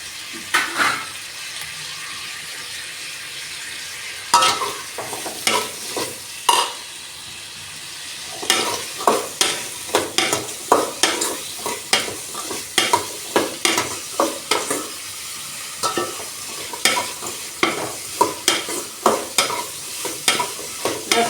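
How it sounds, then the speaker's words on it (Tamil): Tomatoes and green chillies sauté in oil in a pan while cooking a murrel fish curry, with a steady sizzle broken by repeated sharp stirring scrapes of a spatula, close and moderately loud. "தக்காளியை போடுங்க அதையும் நல்லா வதக்குங்க"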